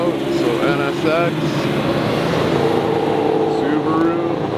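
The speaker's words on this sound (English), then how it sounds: "Cars are going out" Vehicle engines rumble and rev steadily as cars pull away from a hypercar and supercar event, including an NSX, Subaru, GR Corolla, Audi RS3 and Viper, with people talking loudly over the continuous motor noise.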